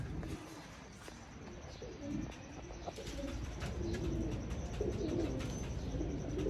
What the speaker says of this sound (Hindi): आज की फिर में आखिरी कबूतर हमारा बैठा है।